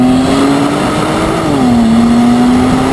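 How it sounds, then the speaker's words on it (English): A 2016 Infiniti Q50 Red Sport 400 with an all-wheel-drive, 3-liter twin-turbo V6 accelerates on a back road. The engine drones steadily close up from inside the car, and its pitch shifts partway through as it pulls hard. "turbocharged V6 does 400 horsepower and 350 pound-feet of torque"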